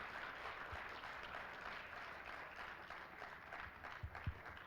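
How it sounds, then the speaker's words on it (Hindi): Applause from an audience at a Sanskrit skill-training programme event, a faint, distant wash of steady clapping lasting several seconds with a few louder claps near the end. "इनके लिए तालियां हो जाए।"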